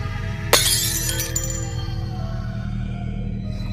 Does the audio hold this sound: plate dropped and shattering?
yes